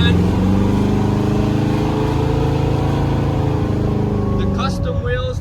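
A 1967 Chevrolet Camaro engine rumbles steadily, loud and close, with a deep continuous idle that holds throughout, and a voice comes in briefly near the end.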